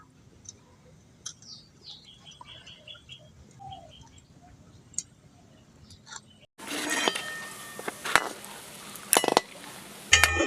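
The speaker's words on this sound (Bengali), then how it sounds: "এগুলোকে একটু নাড়াচাড়া করে লালচে করে ভেজে নিয়েছি" Gulab jamun balls made from stale bread sizzle as they are stirred and fried in a pan, frying hiss starting partway through with sharp scraping clicks, after a quieter stretch with faint bird chirps.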